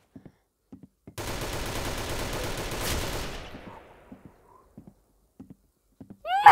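Gunfire in the Roblox shooter Arsenal, a sustained burst of rapid automatic shots for about two seconds that trails off, with sparse sharp single clicks before and after, loud and close.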